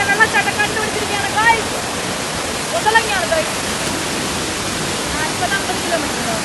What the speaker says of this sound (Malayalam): പാമ്പനാൽ വെള്ളച്ചാട്ടം എന്നാട്ടോ ഇത് പറയുന്നത്.